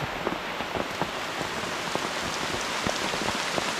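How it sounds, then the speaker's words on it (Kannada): Rain pours steadily through a forest onto a tent at a bushcraft campsite, a dense hiss with scattered close raindrop taps and no voices. "ಕಾಡೊಳಗಡೆ ಒಳ್ಳೆ ಮಳೆ ಇದೆ"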